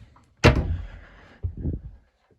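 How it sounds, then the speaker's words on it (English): A cabinet door in a VW T4 van kitchen pops open with a sharp, close knock, followed about a second later by a softer second thump, with no talk around it. "So you can pop that door open."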